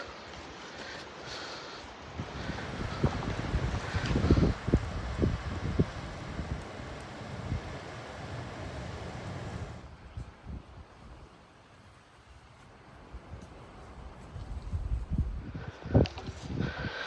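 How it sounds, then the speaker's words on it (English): Wind at Pictured Rocks National Lakeshore in summer: outdoor gusts buffet and rustle in irregular surges, easing to a quieter lull midway before picking up again. "The wind is picking up"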